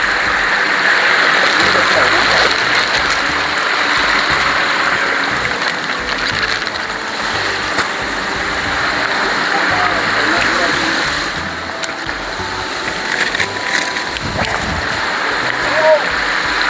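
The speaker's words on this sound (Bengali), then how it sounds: "বন্ধুরা উপভোগ করুন এই সেই ঝর্ণা, খুব মনোরম পরিবেশে, অসম্ভব ঠান্ডা পানি" A waterfall in a cool, scenic spot in Bandarban rushes with a steady broad roar and splashing, close and loud throughout, with faint voices now and then underneath.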